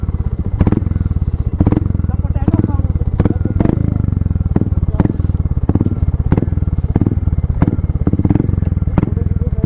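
Royal Enfield Hunter 350 motorcycle with an SC Project exhaust rumbles while riding, a steady close thumping single-cylinder beat with periodic louder pops and clatter throughout.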